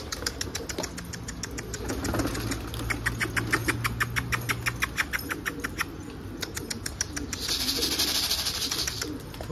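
Pigeons in a loft coo steadily in a close, repetitive stream of soft rhythmic calls over a faint engine hum, with no talking.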